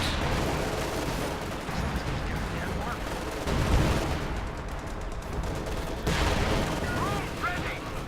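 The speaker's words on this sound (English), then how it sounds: "Mortar firing down there, pack howitzer firing, regular howitzer firing there from the priests." Mortar and howitzer fire, including pack howitzers and Priest self-propelled guns, in the video game Company of Heroes 2: steady battlefield rumble with dull booms that land every few seconds, some heavier thuds standing out from the din.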